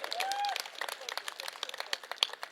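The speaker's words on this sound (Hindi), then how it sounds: "अरे ताली बजा दो" Scattered clapping from an audience at a speech, sparse and uneven claps rather than full applause, with a voice and a brief tonal sound in the first half.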